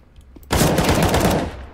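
Rapid automatic gunfire from a CS:GO match opens after a brief quiet lead-in, then sounds as a loud, continuous burst of shots that runs to the end.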